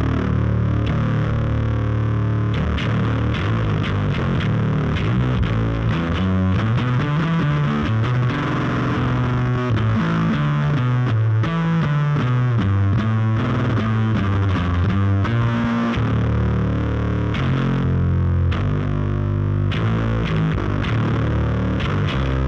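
Bass guitar run through a Non Human Audio Cave Bear fuzz pedal into a Moog Cosmic Trigger and a touch of reverb, playing a steady distorted riff with gritty, buzzing sustained notes and a moving low line for over twenty seconds, no talking.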